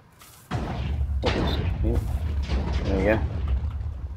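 Cannons fire in the Minecraft Hexxit modpack as repeated deep booming thuds. The rumble runs under someone talking close to the microphone.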